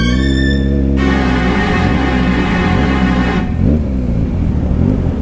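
A Kawasaki Ninja 1000 SX motorcycle engine runs loud and close, with steady low rumbling harmonics that rise and fall in a few revving surges, with no talking.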